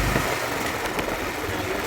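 A motorbike ridden without a helmet makes a steady engine drone and wind rush, as picked up close on a Samsung IC050 Type-C earphone microphone. The sound is loud and continuous, with faint buffeting and no clear speech.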